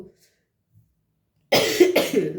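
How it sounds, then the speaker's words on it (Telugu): A person with a cold coughs twice in quick succession, loud and close after a near-silent pause. "నాకు కాఫ్ చాలా ఎక్కువ వస్తుంది కోల్డ్ అయినందుకు."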